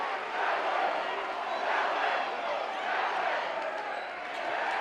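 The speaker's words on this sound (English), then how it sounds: "Each cheering section, which is the entire group, is trying to outduel the other." A basketball crowd at a state semifinal game roars steadily, rival cheering sections chanting and shouting over each other in a dense, continuous wall of sound that swells and dips slightly throughout.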